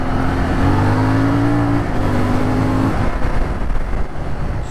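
A CFMOTO 450MT adventure motorcycle on an off-road ride revs its engine steadily, a loud close drone that climbs briefly in pitch and then settles, with no talking over it.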